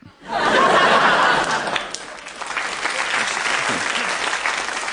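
An audience at a radio comedy recording bursts into loud applause mixed with laughter and chuckles, swelling quickly, then easing into softer scattered clapping and murmurs.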